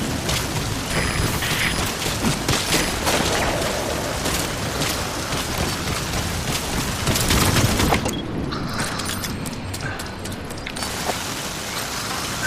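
Gunfire in the video game Metal Gear Solid V: The Phantom Pain, a sustained fusillade of shots and booms filling the mix, dense and continuous, briefly thinning near the end.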